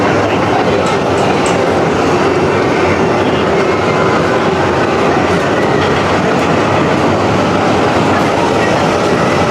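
A steady, loud roar of a roller coaster train rolling along track with a continuous rumble and faint clattering, close and unbroken throughout.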